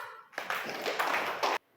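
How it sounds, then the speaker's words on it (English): A class of children claps together for a girl classmate in a spoken English lesson, a dense burst of applause lasting about a second and a quarter, loud and close, then stopping abruptly. "Give claps for her."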